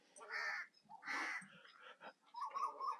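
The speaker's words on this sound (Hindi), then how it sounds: "ये कौवे भी तो बात कर रहे हैं भाई" Crows caw in a few loud, harsh bursts by Haleji Lake in Sindh, the calls fairly close and set against quiet surroundings, with no talk.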